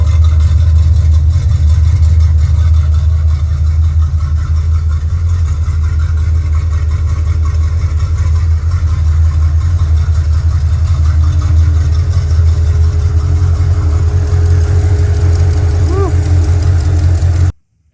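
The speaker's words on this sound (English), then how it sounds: "Pypes exhaust sounds awesome." A 1970 Dodge Super Bee with a Pypes exhaust idles close by in a loud, steady, deep burble that holds for about seventeen seconds, with an electric fan whirring underneath, then cuts off abruptly.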